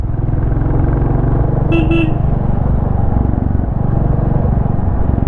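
A Royal Enfield Classic 350 motorcycle rumbles along a broken dirt road, its engine a steady loud low drone, with a short double horn toot near the middle.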